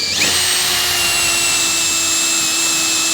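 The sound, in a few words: power drill drilling pilot hole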